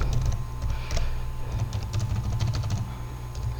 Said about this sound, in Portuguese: Digitei a minha senha.